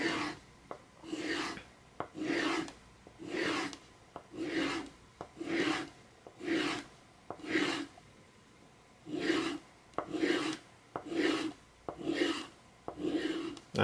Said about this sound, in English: I'm doing the flat spots and then sharpen, polish the teeth also.